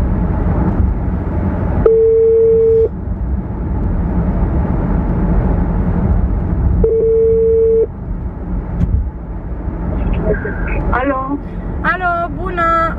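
While calling a shop, a telephone ringback tone sounds twice, each ring about a second long with a long gap between, over car interior rumble, followed by a voice answering on the line.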